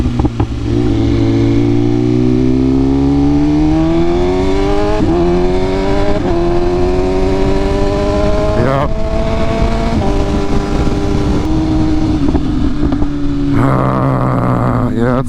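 A BMW M1000RR motorcycle roars loudly on the move, its engine note rising and falling through gear changes with heavy wind rush; the rear end has a vibration fault, and a rider speaks briefly over it.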